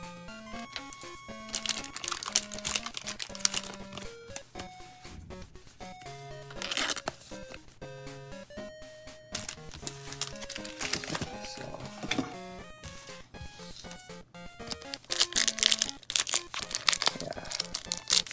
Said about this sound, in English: I am going to take my ETB sleeves and sleeve both those cards up.